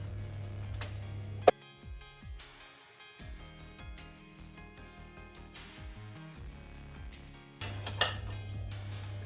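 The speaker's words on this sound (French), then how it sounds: "on va remuer tout ça pour que toutes les pommes aient de la cannelle" Apple pieces and cinnamon stirred with a utensil in a bowl for an apple-cinnamon crumble, giving a run of light clinks and scrapes against the dish over a steady low hum, with no talking.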